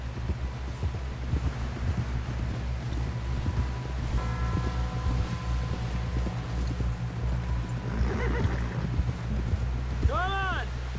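In Red Dead Redemption 2, a horse's hooves clop faintly beneath a steady rumble of wind and game ambience, with a brief high whinny near the end, while voices talk over it.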